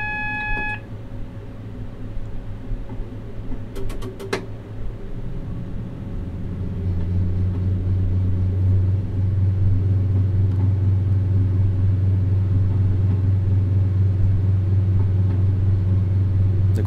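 A train in the video game Train Simulator on the Looe Valley Line, its engine rumble building steadily from quiet to a loud sustained low drone, with a brief electronic beeping near the start.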